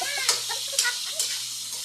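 Chopsuey is stirred in a pan in three distinct scraping strokes over a soft sizzle, while a voice speaks briefly at the start.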